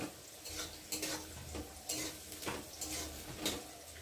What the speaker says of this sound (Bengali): তো চলো এখন ভালো করে বিনসটাকে ভেজে তুলে নেব।